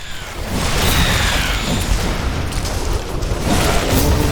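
Continuous loud rumbling blasts from a base building being destroyed in The Riftbreaker, a sci-fi game, with dense low booms and crackling debris sustained throughout, no pauses.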